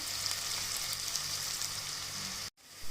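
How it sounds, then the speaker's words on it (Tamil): Onions fry in a pan with a soft, even sizzle that hisses steadily for a couple of seconds and then cuts off. No voice is heard. "நல்லா வெங்காயம் வதங்கட்டும், அது வரைக்கும் ஃப்ரை பண்ணி விட்டுக்கோங்க."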